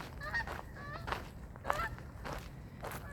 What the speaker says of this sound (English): Geese are heading out.